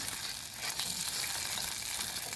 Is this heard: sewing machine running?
no